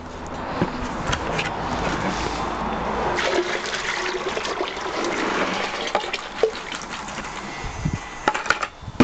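Water and a charcoal-rich soil sample poured into an archaeology sieve give a steady rushing, trickling wash for several seconds, with light clinks and small knocks near the end.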